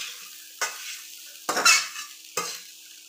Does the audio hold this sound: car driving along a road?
no